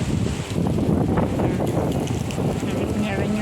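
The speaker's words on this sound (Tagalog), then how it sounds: "Mahangin-hangin siya." Wind blows across an outdoor microphone in steady, rumbling gusts, loud and continuous with no pause.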